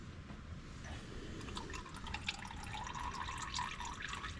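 Engine oil from an Isuzu 4JJ3 diesel in a Mazda BT50 or Isuzu D-Max drains into a drain tray as a faint, steady trickle with light drips over quiet background.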